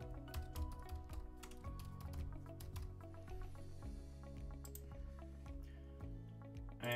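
Fast, irregular clicking of fingers typing on a computer keyboard, close and clear over a steady low electrical hum, with no talking.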